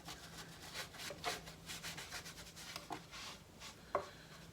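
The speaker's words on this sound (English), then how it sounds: "We'll be using a cloth to rub this in a little bit harder." Cloth rubbing wood stain (Ebony over wet Grey Willow) into a console table: faint, soft repeated rubbing and scuffing strokes at a quiet level, with a light knock near the end.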